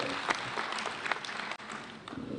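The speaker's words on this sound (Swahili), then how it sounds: "tuwapige makofi." A crowd at a UDA party meeting claps for members of parliament, a brief, fairly soft patter of applause with a few sharper claps standing out.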